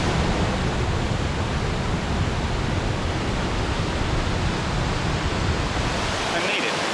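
A small waterfall tumbling below rocks at Sol Duc in Olympic National Park, a dense, loud, unbroken roar of rushing water close by, steady throughout.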